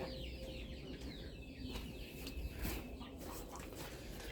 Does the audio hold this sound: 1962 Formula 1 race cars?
no